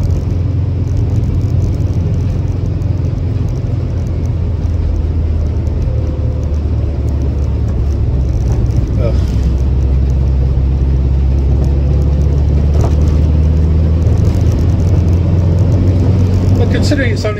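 A VW Type 2 Westfalia camper van with a 1.6 engine in the back cruises along the road, giving a steady loud low rumble and road roar throughout, with someone talking over it.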